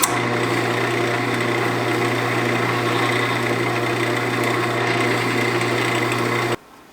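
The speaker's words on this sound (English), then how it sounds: "I'm just going to hit that with some steel wool." Steel wool is held against a shellac-sealed scrap-wood bowl lid spinning on a wood lathe, giving a steady, loud motor hum with an even rushing hiss that runs for over six seconds and then cuts off abruptly.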